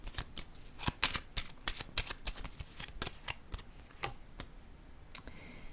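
Playing cards shuffled and set down on a table, a fast run of crisp, close riffling clicks and snaps in an irregular rhythm, fairly quiet with almost no talk.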